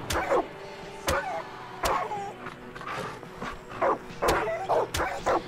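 Dog barking in the video game Far Cry 5: repeated sharp barks at irregular intervals over a low engine-like background, moderately loud, no talking.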